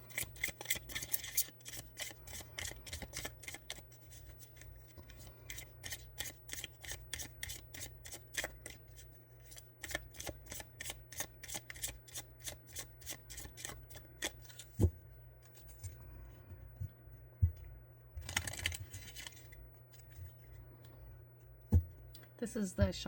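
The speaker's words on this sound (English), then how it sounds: "This is the Shamanic Healing deck that I'm currently shuffling" A Shamanic Healing oracle card deck is shuffled by hand in rapid, rhythmic riffling bursts, a steady train of crisp papery flicks up close, with brief pauses and a couple of louder slaps later on.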